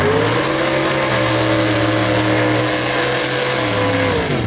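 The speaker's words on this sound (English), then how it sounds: "A Fiat 126 racing against a Corvette." A Fiat 126 drag racing a Corvette at a no-prep drag strip: loud, close engine roar holding a steady high-revving note, with the pitch dropping sharply as the engines come off at the end.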